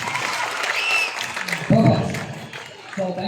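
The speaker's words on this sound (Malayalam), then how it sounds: "കൈയടിക്കാനൊന്നും വയ്യല്ലേ?" Scattered applause from an audience at a magic show, brief and moderate, mixed with talking voices over it.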